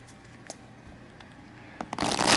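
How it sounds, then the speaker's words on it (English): A corner shuffle of an oracle card deck: faint card riffles at first, then a loud burst of rapid flutter near the end, with no voices. "I usually do a corner shuffle like that."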